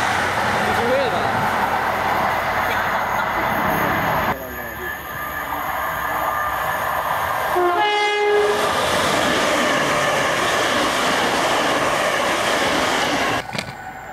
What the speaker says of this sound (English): Here comes the HST.